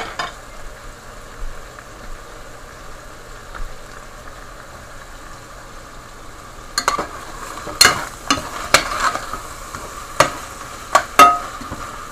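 Basmati rice with chicken frying in a pan, a faint low sizzle at first, then a run of sharper scraping and clattering strokes of stirring in the second half.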